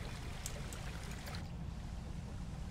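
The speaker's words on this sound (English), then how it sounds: "I can hear this water, but it's just not working." Flowing water in the video game Planet Coaster, a steady, faint rushing wash that continues through the whole stretch with no voices over it.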